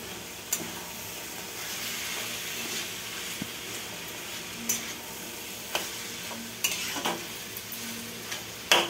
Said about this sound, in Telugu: బెల్లం వేసి ఇది బాగా వేచాలి, దగ్గరగా పాకం వచ్చిందాక.